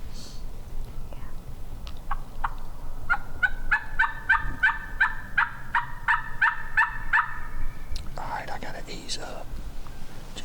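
Wild turkeys gobbling during a spring turkey hunt: a rapid run of about a dozen sharp, rising gobbles at moderate distance, with hushed whispering and steady outdoor background noise.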